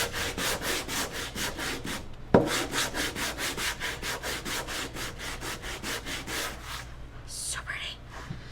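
A painted wooden clock face is hand sanded with steady, rhythmic back-and-forth rubbing strokes, close and moderately loud, pausing briefly midway and then thinning out near the end.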